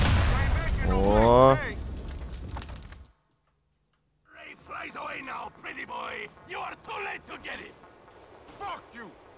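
A heavy rumbling boom from an explosion in the video game GTA: The Ballad of Gay Tony bursts out with a shout over it and fades, then after a brief silence voices talk.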